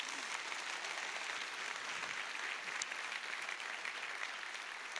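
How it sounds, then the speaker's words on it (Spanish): A church congregation claps at a Spanish-language service, steady dense applause running evenly throughout at a moderate level, heard on its own. "Dale el mejor aplauso que le puedas dar al Rey."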